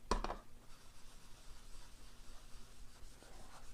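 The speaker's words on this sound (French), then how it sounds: "Je viens juste remettre de l'encre sur les bords de ma carte" Ink blending tool rubbed in circles along the edges of a card, a soft steady scuffing with a louder burst at the start, close and quiet, with no talk.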